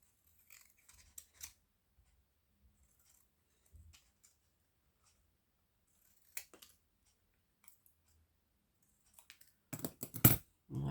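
Scissors snipping a stamped paper card piece for a Christmas card, sparse quiet cuts with pauses, then a quick close flurry of snips at the end; no voices.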